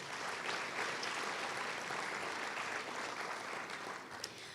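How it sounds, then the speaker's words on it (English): Audience applause at a Martin Luther King Jr. Day community celebration, a steady wash of clapping heard faint and distant throughout, tapering slightly at the end. "Please give him a round of applause."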